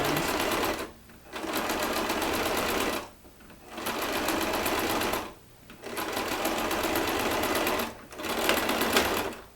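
A sewing machine stitches a Christmas stocking cuff in four or five steady, fairly loud bursts, each broken by a short pause, with no talking.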